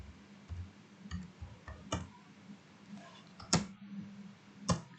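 Keys on a computer keyboard clicking in short, irregular bursts as a switch command is typed, with a few sharper, louder taps standing out, likely the enter key, against a quiet room background.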